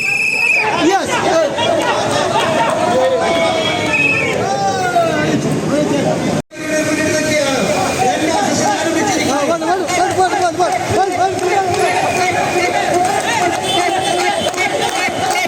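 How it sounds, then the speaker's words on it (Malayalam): Spectators at a match cheer and shout in a loud, continuous crowd roar with overlapping voices and chatter, a dense close din cut off by one brief silent gap halfway through. "കാണികളെല്ലാം തന്നെ കാണികളായി നിൽക്കാതെ കൈയടിച്ച് പ്രോത്സാഹിക്കുന്നതാണ്"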